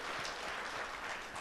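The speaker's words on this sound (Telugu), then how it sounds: "చప్పట్లు కొట్టి దేవునికి స్తోత్రాలు చెల్లిద్దాం" Congregation applause during a Telugu church sermon, a dense, steady wash of many hands clapping that holds at an even loudness for the whole stretch, with no voices on top.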